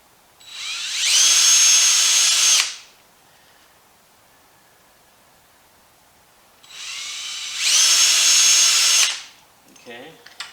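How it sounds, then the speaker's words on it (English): Power drill boring a hole into a cross member to mount front brake line brackets on a Willys rat rod, two loud, sustained whining bursts separated by a few seconds of quiet, ending with a brief clatter. "And we'll just drill a hole."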